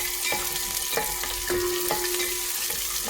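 Garlic and ginger fry with a steady, loud sizzle in a pan, a spoon scraping and clinking against the metal every half second or so, with no voices over it.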